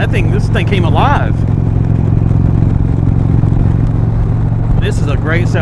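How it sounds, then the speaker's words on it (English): A 2021 Indian Roadmaster cruiser motorcycle engine rumbles loud and steady at close range while riding, with a deep throbbing tone, and a person talks over it at the start and end. "This is a great sounding motorcycle."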